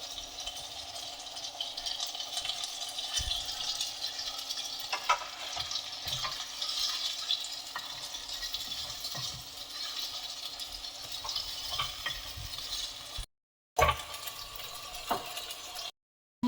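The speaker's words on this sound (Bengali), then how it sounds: "এখানে যে কতগুলো টমেটো কুচিয়ে রেখেছিলাম সেই টমেটোগুলো এতে দিয়ে দেবো" Chopped tomatoes added to a pan of frying spice masala, with a soft steady sizzle broken by occasional stirring clicks and scrapes, fairly quiet and without speech.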